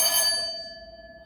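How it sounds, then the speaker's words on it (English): A parliamentary adjournment bell gives a single bright metallic ring that decays into a sustained tone, loud at first and fading steadily over about a second, with no talk over it. "That was an adjournment bell, I think, or not a division bell."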